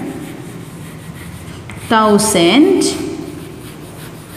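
A teacher writes numbers on a board during a Class 4 maths lesson, giving soft, steady scratching strokes under the room noise, while a voice speaks briefly in the middle.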